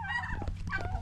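A noisy turkey on a small farm with chickens lets out a brief, close gobbling call, loud and alone over faint background sound.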